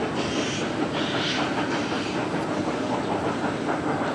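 Steady rumble and rhythmic clatter of the train ride at Henry Doorly Zoo in Omaha, Nebraska, rolling along its tracks, heard up close and continuous with no voices.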